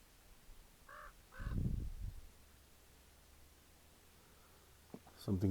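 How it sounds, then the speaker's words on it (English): Crows caw in woodland, two short calls close together early on, followed by a louder low rustle or thud and then quiet, with a sharp click and scraping burst near the end. "There's some crows around."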